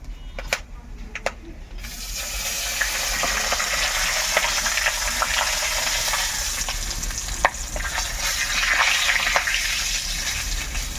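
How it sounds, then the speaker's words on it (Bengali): Whole garam masala of cinnamon, cloves and cardamom with two bay leaves frying in hot oil for a cauliflower roast, a steady close sizzle with a few sharp crackles and stirring clicks throughout. "প্রথমে দিয়ে দেবো গোটা গরম মশলা এর মধ্যে আছে দারচিনি লবঙ্গ এলাচ এটা আমি তেলের মধ্যে দিয়ে দেবো আর দিয়ে দেবো দুটো তেজপাতা"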